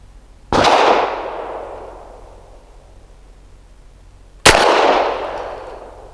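Two sharp, loud pistol shots from a Grand Power LP9M firing 94 grain zinc-plated Silver Bear ammunition, spaced about four seconds apart, each cracking abruptly and then trailing off in a long, fading echo outdoors.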